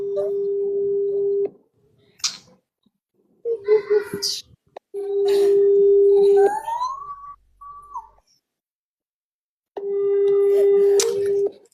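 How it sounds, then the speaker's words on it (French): Outgoing telephone ringback tones sound at intervals while an unanswered call goes through, with long steady beeps separated by gaps. People talk in between, and a brief rising whistle-like tone is heard. "On l'appelle, elle ne décroche pas là."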